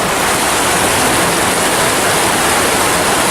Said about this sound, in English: This waterfall is amazing.